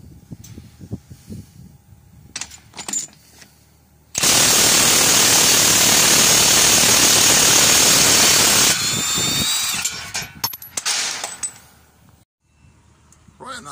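An impact gun rattles loudly and continuously for several seconds, removing a wheel from a jacked-up Mercedes-Benz Actros truck in a workshop, bracketed by clanks and tool handling.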